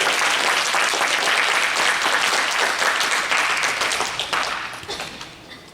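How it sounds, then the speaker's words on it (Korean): A church congregation in Auckland breaks into warm, dense applause that holds steady for several seconds before tapering off into scattered claps. "박수로 한번 모셔볼까요?"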